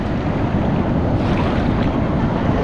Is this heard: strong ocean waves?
yes